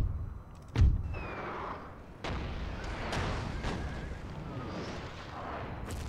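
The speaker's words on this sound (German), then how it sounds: "Ich glaube, meine Kavallerie wird hier die ganze Zeit beschossen. Von deren Artillerie." Artillery fire in a Napoleon: Total War battle, one heavy deep boom near the start followed by fainter distant thuds over a steady rumbling battle din, with no talk.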